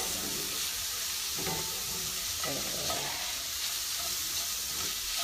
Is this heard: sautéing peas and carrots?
yes